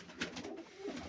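Quail call in a bird shop: a short, soft, cooing note repeated twice within about a second, with no talk.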